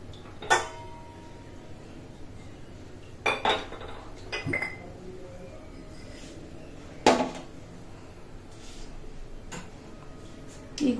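Pots, dishes and cutlery clattering in a home kitchen while tea is put on, with several sharp metallic clinks and clanks spaced out over quiet room noise, close by.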